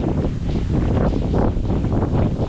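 Wind blows steadily across an outdoor sweet potato patch, a loud, continuous rushing buffet against the microphone with faint rustling, no voices present.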